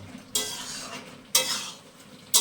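Mixed vegetables, okra, potato, ridge gourd, drumstick and lentil dumplings, are cooked and stirred in a pan, with three sharp metal scrapes of a spatula against the pan over a faint low sizzle.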